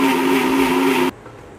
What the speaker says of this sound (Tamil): இப்போது நல்லா இதை கிரைண்ட் பண்ணி எடுத்துட்டு